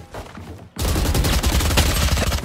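Valorant gunfire: a sudden loud sustained burst of rapid automatic shots that follows a brief quieter stretch.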